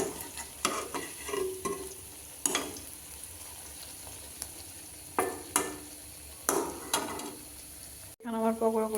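Cabbage pakoras frying gently in oil over low heat, with a steady soft sizzle and occasional louder clatters from stirring, ending in a brief cut.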